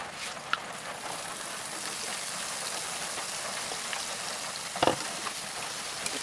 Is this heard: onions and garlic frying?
yes